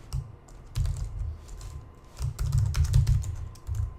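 Steady bursts of typing on a computer keyboard as code is written, with quick close keystrokes in uneven clusters and short pauses, no voice.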